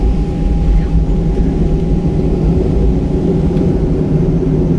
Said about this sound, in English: There's a plane that just landed right behind us.